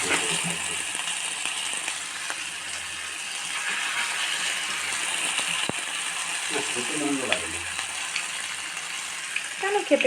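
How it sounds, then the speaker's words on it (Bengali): Steady crackling sizzle of papads frying in a little shallow oil, with occasional scrapes and clinks of a utensil moving them in the pan. "খুব অল্প তেলে পাঁপড়গুলো ভাজা হচ্ছে"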